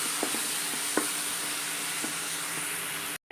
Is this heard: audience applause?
no